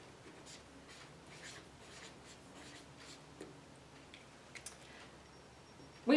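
Pen or pencil writing a label on a sheet of paper, faint scratchy strokes in short bursts with small taps, close and quiet, ending in a louder knock.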